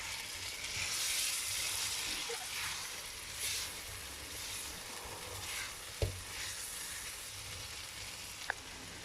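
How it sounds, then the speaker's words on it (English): Chicken masala frying in a pan, stirred as it dries out: a steady close sizzle with soft scraping and a couple of sharp utensil knocks against the pan. "So now you got to keep on stirring it until it starts drying up."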